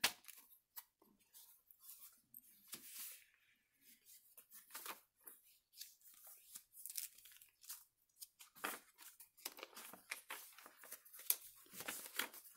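Paper pages of a fold-out journal are turned and handled, making a steady run of soft crinkles, rustles and flicks that stay close and quiet throughout, with no talk.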